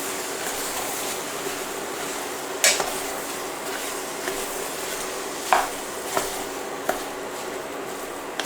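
Peppers and potatoes being stirred in a frying pan, a soft sizzle running throughout, broken by several sharp clinks and scrapes of a utensil against the pan.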